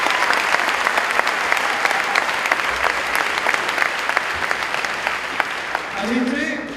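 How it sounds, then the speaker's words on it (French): Audience applause fills a hall at a political meeting at the Bourse du Travail, steady dense clapping throughout that begins to thin near the end as a voice starts speaking. "vous pouvez l'applaudir aussi, Anne-Sophie"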